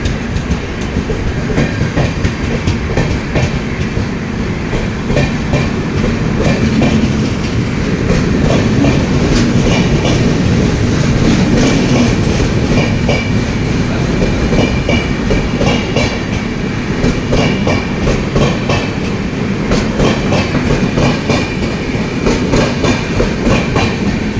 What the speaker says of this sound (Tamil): இதான் நாங்கள் வந்த ட்ரெயின் கிளம்பிடுச்சு